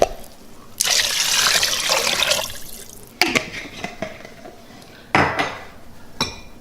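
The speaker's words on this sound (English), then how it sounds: "We're going to go ahead and add our chicken broth." Chicken broth pours into a pot of potatoes sitting in a little water, giving a sustained liquid rush followed by clinks and knocks of a pot and utensils, close and fairly quiet, with no talking.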